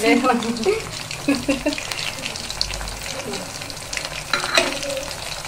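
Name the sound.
chicken 65 frying and stirring in pan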